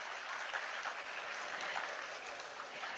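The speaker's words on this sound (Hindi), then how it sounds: "जो ब्लू बोल रहे हैं वो एक बार अपने लिए तालियां बजा लें।" Applause from an audience at a municipal corporation awareness session on sanitation and hygiene in Chandigarh, a steady, dense wash of many hands clapping that holds evenly for about three seconds with no talk over it.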